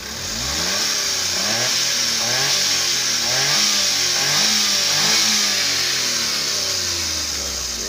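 A small DA63T multicab engine with a hard-starting fault revs up and down repeatedly, loud and close, with a gritty mid-pitched roar and no talking.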